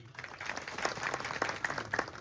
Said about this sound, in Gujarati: એ પરિવારને ખૂબ ખૂબ તાળીઓથી વધાવીએ